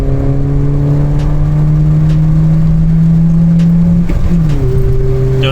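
A VW Polo 1.4 fitted with a sports exhaust and back box removed accelerates hard through the gears, its engine note droning loud and steady before a brief dip at a gear change and a renewed climb.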